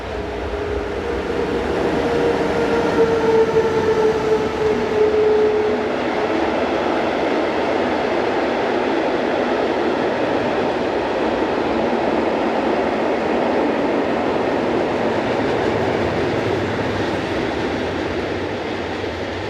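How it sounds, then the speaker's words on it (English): A Swiss freight train hauled by two locomotives, 11231 and 11622, runs south on the Gotthard south ramp. It rumbles steadily and loudly for the whole stretch, with a brief wheel squeal early on and no voices. "Heading south are locomotives number 11231 and 11622 on train number 45025 from Mannheim to Chiasso."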